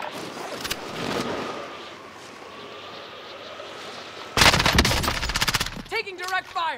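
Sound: gunfire in Call of Duty: Modern Warfare video game

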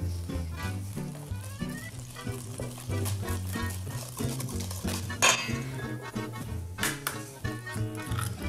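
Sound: mixing eggs and yolks into cheesecake batter

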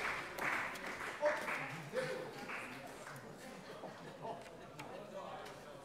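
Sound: applause in a parliament plenary session

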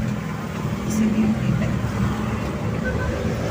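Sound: road traffic at rush hour

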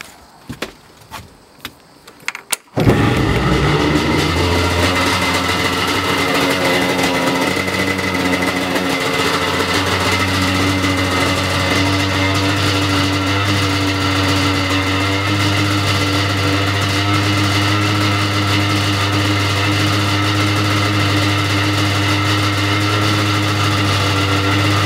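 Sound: Yamaha LS2000 boat engine starting and idling

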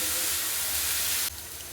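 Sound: frying chopped pointed gourd (potol) in a pan

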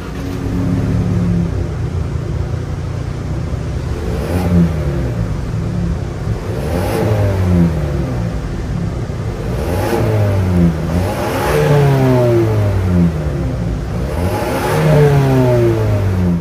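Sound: 2024 Ford Ranger 2.3-liter EcoBoost turbo four-cylinder engine revving

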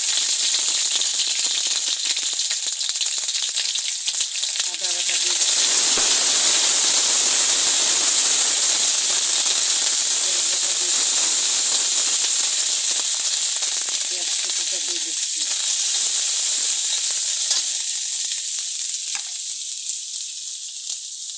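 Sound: garlic paste sizzling in hot oil

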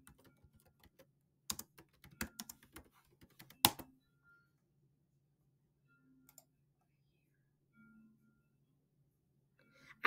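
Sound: typing on a computer keyboard

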